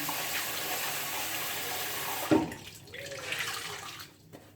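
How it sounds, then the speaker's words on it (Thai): Warm water runs steadily from a tap into a sink during face rinsing, then cuts off abruptly halfway, leaving softer splashes and drips close by. "ต้องเอาน้ำอุ่นล้างนะคะ"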